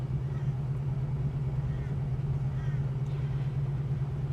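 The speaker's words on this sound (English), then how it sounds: "Right now, I'm idling around town." A Holden HK car engine idles steadily while driving slowly around town, a continuous low rumble with a strong even hum, close and constant throughout.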